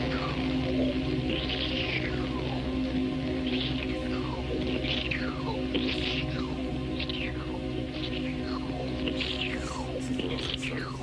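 A dubbed horror-movie gore effect for a woman's stomach being cut open: wet, squelching, gurgling sounds with repeated slithering, descending squeals over a dense, murky rumble, loud and continuous without speech.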